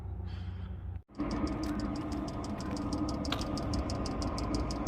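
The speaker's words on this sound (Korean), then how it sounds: "이걸 씌우고 커버를 씌우고 이거를 달아주면 그나마 모터 소리가 굉장히 조용해지는 편입니다" A steady, muffled low-noise fuel pump motor for a parking heater hums continuously under its cover with a faint regular ticking, after a brief cutoff near the start.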